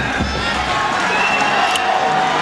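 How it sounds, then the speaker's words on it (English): Football stadium crowd at a McNeese State versus Troy State college game, a loud sustained roar of cheering from a large crowd with a few whistles and shouts, steady throughout. "Crowd is up."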